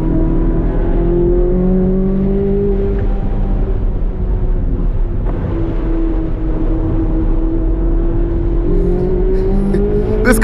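A Corvette C8 Z06 on a race track powers out of a turn, its engine note rising and then easing off in long, loud sweeps heard close from inside the car, with no talking.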